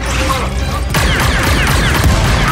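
A grenade blast in the Star Wars Outlaws video game: a loud, close boom about a second in, followed by crackling, rumbling debris and scattered gunfire.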